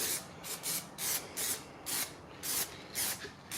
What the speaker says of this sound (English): but just a little spray pack